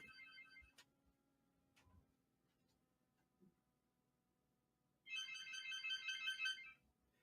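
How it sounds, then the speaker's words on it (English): A telephone rings in a quiet room, a single burst of rapid trilling electronic rings lasting over a second, preceded by faint ticking and small handling clicks. "Telephone is ringing."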